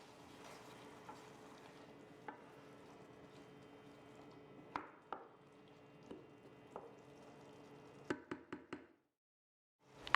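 A spaghetti squash mixture with feta and chickpeas being stirred in a pan: faint sizzling with scattered knocks of a utensil, ending in a quick run of four sharp taps against the pan.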